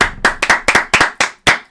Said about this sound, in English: doing a lot of clapping this episode.